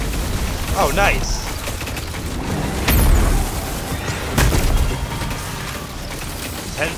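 Hand cannon gunfire in Destiny 2, with a few sharp, loud shots standing out from busy game noise and mechanical clatter, spaced unevenly over several seconds.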